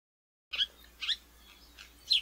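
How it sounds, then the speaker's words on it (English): A house sparrow chirps three times in brief, bright bursts spaced about half a second apart, close and clear with quiet between calls. "House sparrow."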